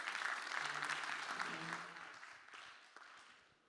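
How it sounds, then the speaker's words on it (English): A conference audience at a summit stage breaks into applause, dense clapping that starts full and gradually tapers off, with a faint voice briefly underneath. "Let's give them a round of applause."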